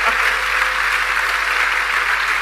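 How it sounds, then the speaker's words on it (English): An audience rises for a standing ovation after a career presentation, giving a steady, dense roar of applause that holds at full strength from start to finish. "It's your standing ovation and indication of your appreciation"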